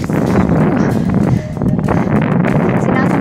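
Strong headwind buffets the microphone while cycling a desert dune track at Moreeb Dunes in Liwa, Abu Dhabi, a loud continuous roar with rumbling gusts throughout.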